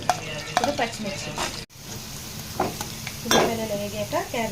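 Green chillies sizzle and fry in hot oil while being stirred in a pan for a cabbage curry tempering. The bright hiss comes with repeated scraping stirs and clinks, and a brief cut occurs midway.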